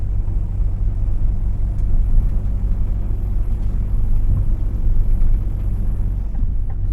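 A truck drives through an industrial zone on the outskirts of Strasbourg, giving a steady, loud low engine rumble with road noise that holds constant throughout, with no talking.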